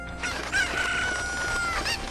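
A cucco, the chicken of Zelda: Ocarina of Time, clucks and squawks loudly and close in a quick run of calls, with no voices over it.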